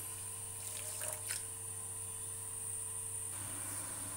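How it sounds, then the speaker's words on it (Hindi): A cup of water is poured onto a cup of sugar to make syrup for shakarpara, a brief, soft trickling splash over a steady low hum in a quiet kitchen. "और 1 कप मैं इसमें डाल रही हूँ पानी।"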